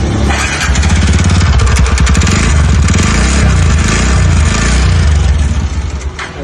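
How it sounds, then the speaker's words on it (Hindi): A TVS Ntorq scooter engine with an excessive-noise fault runs loudly close by, a steady buzzing idle with rattly, clattering texture that holds for several seconds before easing slightly at the end. "आज हमारे पास एक टीवीएस इंटॉक गाड़ी आई है जिसके इंजन में से बहुत सारा आवाज आ रहा है।"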